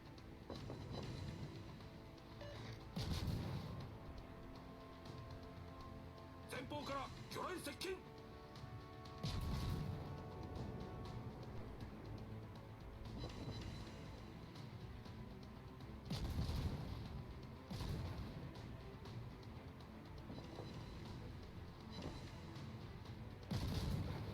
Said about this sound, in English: I love shooting Grozovoys. Boom. Shimakaze guns.